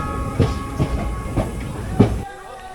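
The Runicha Express stands at Ramdevra station, its wagons giving off a low, steady rumble with a few rhythmic clanks, close by, before the sound cuts off abruptly near the end.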